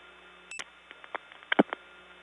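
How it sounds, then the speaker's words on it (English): Crosstalk from telephone dialing on a 1979 step-by-step tandem exchange phone line, faint beeps and short clicky bursts scattered irregularly over a quiet steady line hum. "Now some dialing crosstalk."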